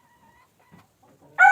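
Elba laying hens, a flock of fourteen, make a few faint low clucks in near silence before one hen lets out a sudden loud, close squawking cluck at the end.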